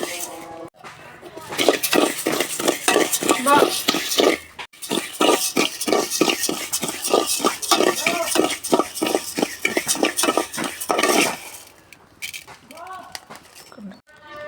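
Rice dry-roasting in a pan for a Kerala rice-ball snack gets stirred in quick, even scraping strokes, a close, rhythmic rasp that stops briefly midway, with a voice audible at times.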